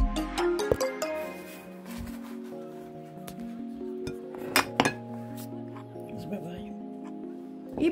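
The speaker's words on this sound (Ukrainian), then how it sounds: "Перемішуємо все це." A utensil stirs a batter of egg, Italian herbs, black pepper and flour in a bowl, producing light scraping and scattered clinks of metal against dishware, close up, while a voice talks.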